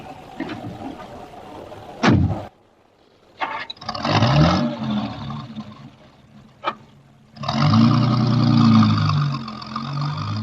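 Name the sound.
car engine starting and driving off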